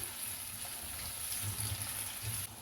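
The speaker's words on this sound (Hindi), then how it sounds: "1 कप यहाँ पर लिया मैंने पानी, ये इसमें जाएगा।" Water is poured into a cooking pot of chicken pulao, a steady soft splashing and hissing at moderate distance that stops abruptly near the end.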